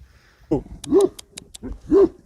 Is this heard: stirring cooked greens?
no